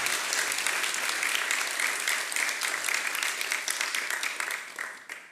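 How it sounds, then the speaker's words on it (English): Audience applause fills a conference auditorium at a Python developers' gathering, a dense, steady clapping from many hands that holds strong for about five seconds before thinning and fading out. "but we can still applaud"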